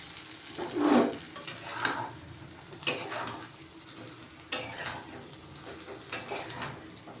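Brinjal frying and being stirred through spicy masala in a pan for a rustic gravy, with a moderate sizzle and intermittent utensil scrapes and clinks, close up and without speech.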